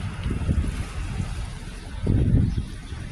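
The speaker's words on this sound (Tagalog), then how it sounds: "At kaya mahangin, mahangin" Gusty wind buffets the microphone in low rumbling bursts at the Hong Kong seaside, strongest near the end, with a faint open-air hiss behind it.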